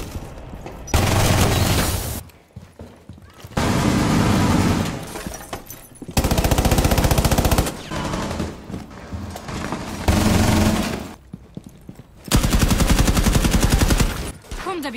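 Wall-bang gunfire punched through walls in Rainbow Six Siege: loud bursts of automatic fire in four or five separate volleys, each a couple of seconds long, with short gaps between them and no talk.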